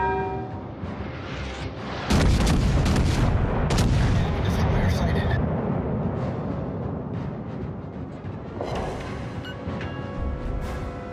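Heavy naval gun salvos from the battleship Bellerophon in World of Warships Legends, a loud booming blast followed by a long rumbling tail and further thuds, with a brief in-game voice callout.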